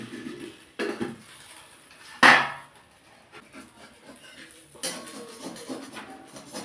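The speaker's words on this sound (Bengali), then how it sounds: "এবার ঢাকাটা খুলে দেখে নেব।" A cooking-pot lid lifts off with one sharp clatter midway, after the chorchori vegetable dish has simmered for twenty minutes on low heat; quiet kitchen handling noises come before and after.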